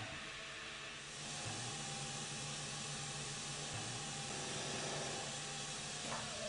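A wood lathe spins a bowl turned from timber off-cuts while it is rubbed. A continuous low hum sits under an even, airy hiss, steady and close throughout.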